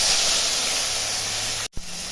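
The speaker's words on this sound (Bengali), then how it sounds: "এগুলো এখন ভেজে নেব" Small fish sizzling in hot oil, a loud steady hiss of frying that fills the clip, with a brief drop near the end before the sizzle resumes.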